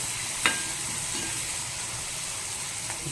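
Turmeric and spices fry in oil in a pan for avalakki, giving a constant, even sizzle with one brief spoon clink near the start and another faint one near the end.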